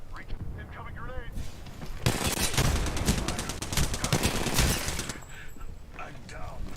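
Gunfire in the battle game Apex Legends, a dense burst of rapid automatic shots lasting about three seconds amid game effects, with quieter sounds before and after.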